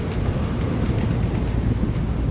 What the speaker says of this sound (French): Ah, le vent se lève. Ouais, petite rafale